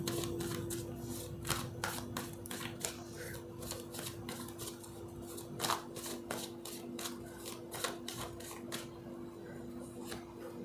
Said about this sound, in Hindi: मैं पहले पूरे कार्ड्स निकाल लेती हूँ